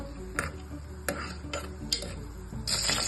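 Cashews, cardamom and bay leaf fry in a pan for veg biryani, a steady low sizzle broken by several sharp clinks and scrapes of a spoon against the pan, close and without talk.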